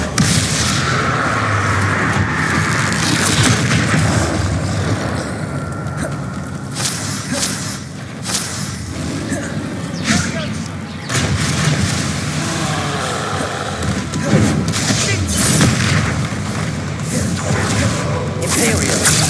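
Bombarda and Confringo explosion spells in Hogwarts Legacy go off as heavy booms and blasts over rumbling game noise, with a voice speaking through much of it.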